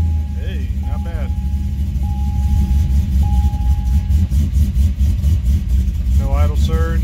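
An LS2 V8 Corvette engine with an aftermarket cam idles around 1,000 rpm after a cold start with a low, steady rumble close by while people talk over it intermittently.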